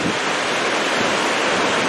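Fırtına Creek rushes through the Fırtına Valley between Ardeşen and Çamlıhemşin, a steady, dense roar of flowing water heard close and alone throughout.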